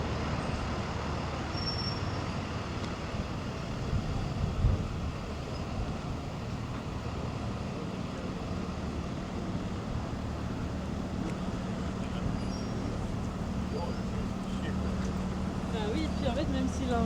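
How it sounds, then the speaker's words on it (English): Steady street traffic on McGill Street in Montreal, a continuous low rumble of passing cars, buses and trucks with a moderate, even drone and occasional voices in the background. "Still a decent amount of traffic and noise."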